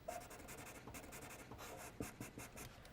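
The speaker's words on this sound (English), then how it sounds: "I'm using the electric eraser on this fairly smooth paper to just adjust everything a little." Electric eraser buzzing against fairly smooth paper while adjusting a drawing, a continuous close scratchy whir with small shifts in pressure and brief changes in stroke.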